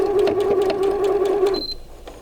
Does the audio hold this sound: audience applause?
no